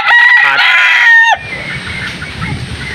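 A rooster crows loudly and close, a long harmonic call lasting over a second, then fades into a low barnyard murmur of clucking hens and chicks on a farm.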